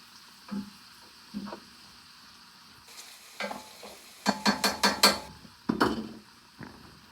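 Stuffed pepper filling sizzles and is stirred in a pan, with soft frying hiss under a series of close scraping and clattering utensil strokes that grow sharper and quicker toward the end.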